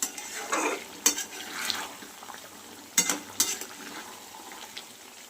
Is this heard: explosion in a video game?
no